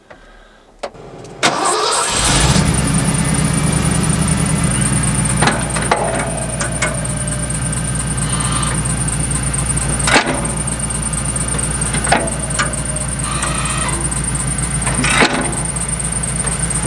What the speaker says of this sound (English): All right, well, the truck warms up.